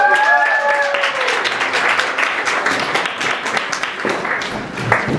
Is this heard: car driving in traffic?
no